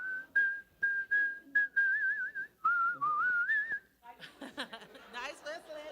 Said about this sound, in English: Nice whistling.